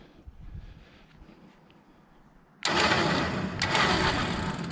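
A Badlands winch from Tractor Supply, bolted onto a car trailer, starts abruptly after quiet outdoor ambience and runs as a loud, steady electric motor whine with a slight rise in strain near the end.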